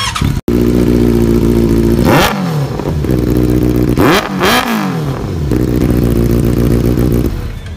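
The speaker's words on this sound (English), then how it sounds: "you guys might be wanting to note the exhaust note of this. So this sounds something really amazing" A Benelli 600 GT motorcycle engine idles loudly up close and is revved hard several times, its exhaust note rising and falling in sharp bursts.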